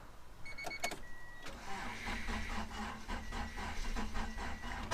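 A 1990 Honda Accord's starter cranks the engine in a rapid rhythmic churning that keeps going without catching, heard nearby after a few faint clicks and chimes.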